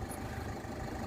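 A car engine idles steadily with a low, continuous rumble and no change in pitch, heard close and alone before the engine is switched off.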